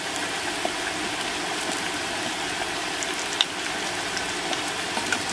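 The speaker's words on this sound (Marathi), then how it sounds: "कांदाही भाजत आलेला आहे." Chopped onion frying in a pan after garlic, a soft, even, continuous sizzle with a few faint ticks, steady and fairly quiet with nobody speaking.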